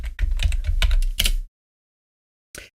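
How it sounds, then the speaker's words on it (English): Quick, close keyboard typing: a dense run of clattering keystrokes for about a second and a half, then silence, then one final key press. "And I'm going to type France."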